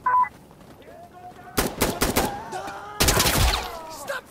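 Gunfire in the video game Insurgency: Sandstorm, a rapid automatic burst of shots followed after a brief lull by another close, loud volley, with faint game sounds in the gaps and no talking.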